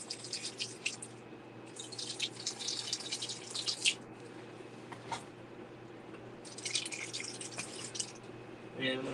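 Water trickles and drips onto potted cannabis plants during a light indoor watering, in soft intermittent splashes and patters with brief quiet gaps, faint and close.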